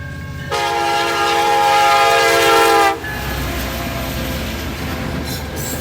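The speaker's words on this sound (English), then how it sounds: "Here comes the Canadian SD70ACe. national train." A Canadian National SD70ACe freight locomotive passing a cantilever crossing in Trenton, Michigan, sounds a loud sustained multi-tone horn for about two and a half seconds, then a steady rumble of the train rolling by continues.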